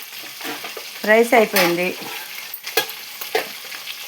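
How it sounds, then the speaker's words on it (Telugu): Eggs frying in a pan, a steady close sizzle with stirring clatter running under a voice speaking briefly in the middle. "చూసారా, గుడ్లు వేపుతున్నాను."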